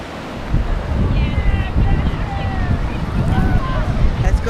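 Ocean waves washing onto wet, hard sand at a beach, a steady broad wash of surf mixed with wind rumble on the microphone, heard close under a few faint voices.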